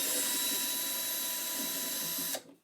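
A power tool, likely a drill, whirs steadily while backing out the inner screws of a blown subwoofer, loud and continuous, then cuts off abruptly near the end.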